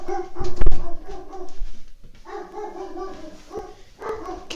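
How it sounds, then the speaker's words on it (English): A dog barks and whimpers indoors, loud and close at the start, then continuing in softer, uneven yips and whines. "Can you all hear the barking?"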